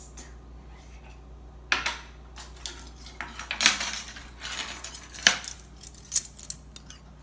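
Metal measuring spoons clink and scrape against dishes while tablespoons of yeast are measured out for simple bread dough, a series of sharp, irregular close-up clatters.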